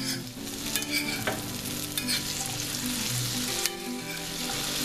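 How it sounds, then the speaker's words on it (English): Potatoes sizzle steadily in butter and olive oil in a hot frying pan, with scraping stirs and clinks of a utensil against the pan. "Oh yeah, that's what we want to hear, is that sizzling."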